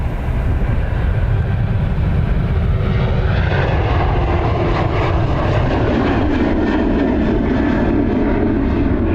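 A jet aircraft passes at Dublin Airport, a loud continuous engine roar that swells and shifts as it moves by, close and alone with no voices.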